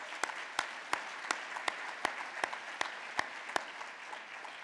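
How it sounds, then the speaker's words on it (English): A single pair of hands clapping in a slow, even rhythm, about a dozen sharp claps spaced evenly apart, each one standing out alone over a quiet, hushed room. "Let's give them a round of applause"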